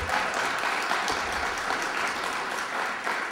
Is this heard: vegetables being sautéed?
no